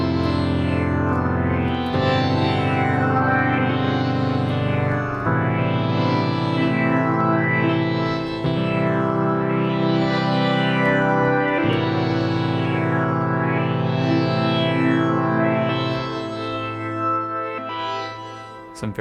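Sonicware Texture Lab granular effect warps a sustained chordal pad with wobbling, off-key pitch shifts and cyclic sweeping shimmer, loud and continuous, drenched in echo and modulation throughout.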